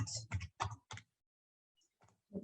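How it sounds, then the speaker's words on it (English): A short command is keyed into FRAMECAD Structure software on a computer keyboard, heard as a quiet cluster of soft key clicks in a hushed room. "or we could simply type BSet"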